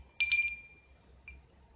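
A normal hand bell rings once with a bright, clear strike that decays smoothly, followed by a faint second tap, close and alone in a quiet room.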